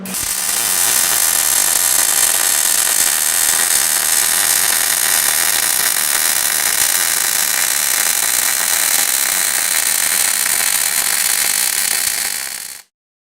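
MIG welding a butt weld with a slight side-to-side weave: a steady, loud, continuous crackling hiss that runs unbroken for about twelve seconds, then stops abruptly.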